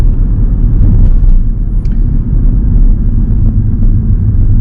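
A car driven in the left lane on a West Didsbury driving test route gives a loud, steady low rumble of engine and road noise, heard from inside the cabin.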